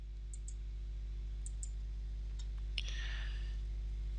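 Computer mouse clicks while working in circuit design software, a few quiet, sharp clicks spaced irregularly, some in quick pairs, over a steady low electrical hum.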